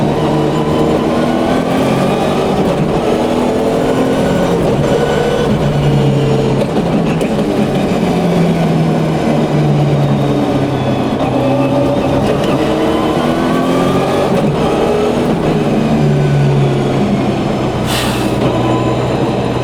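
A Subaru Impreza WRC rally car drives on a public road, its engine droning steadily with rising and falling tones as it pulls through the gears, loud and close throughout with no talking.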